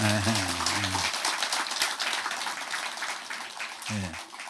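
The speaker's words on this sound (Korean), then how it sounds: "그래도 박수 쳐주니까 좋으네요" A church congregation applauds for a pastor marking fifty years of ministry, a broad steady wash of clapping with a voice speaking briefly at the start and again near the end.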